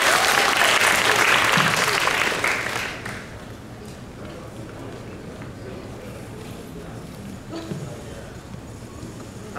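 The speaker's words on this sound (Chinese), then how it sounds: "不要吝啬你们的掌声跟尖叫声" An audience at a club anniversary show bursts into dense, loud applause mixed with cheering. It fades after a couple of seconds into quieter crowd murmur with some voices talking.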